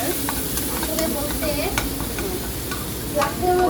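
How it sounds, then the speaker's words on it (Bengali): Turmeric, cumin and chili powder fry in a pan for a vegetable roll filling, with a constant sizzle and brisk, repeated spatula scraping up close, no talking. "এটাকে এখন ভালো করে নেড়ে চেড়ে কষাবো।"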